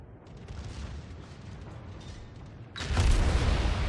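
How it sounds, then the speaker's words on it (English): Heavy cruiser armor-piercing salvo in World of Warships, a low rumbling naval gun barrage that builds and then swells into a louder, booming burst near the end, with no voices over it. "just check out the AP salvos and just see how much damage they actually do"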